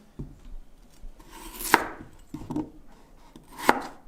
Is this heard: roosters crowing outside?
no